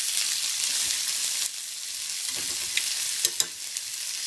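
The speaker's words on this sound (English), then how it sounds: "Now I'm going to turn the shrimp over real quick." Shrimp frying in a hot pan for a shellfish ragu, a steady close sizzle with a few light clicks and stirring bumps as the shrimp are turned.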